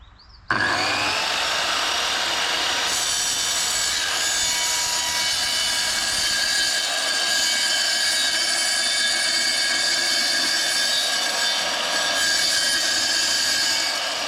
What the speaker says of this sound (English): I've got to basically cut little strips out of the actual panel.